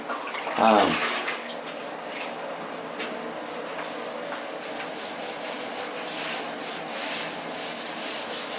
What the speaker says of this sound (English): just gonna keep wiping down until I'm finished